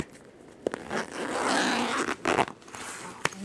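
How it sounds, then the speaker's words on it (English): Nearby zipper being zipped in a few quick pulls, loud scraping rasps with brief pauses between them, heard alone. "Zip that"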